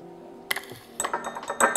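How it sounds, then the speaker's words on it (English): Cocoa powder spooned into an 8-ounce mug, unsweetened, with a metal spoon giving a sharp clink against the ceramic rim followed by a quick run of light taps and scrapes, close and clear. "put 2 to 3 teaspoons of unsweetened cocoa powder into an 8-ounce mug"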